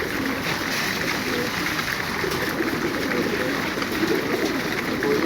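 Homing pigeons coo softly in the background over a steady outdoor hiss, with no clear talking, while being fed in a car before a race.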